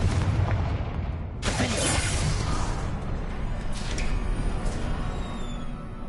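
A Confringo fire spell from Hogwarts Legacy bursts with a sudden loud blast around 1.4 seconds, rising out of a dense rumbling game soundscape, followed by crackling fiery whooshes and further muffled impacts.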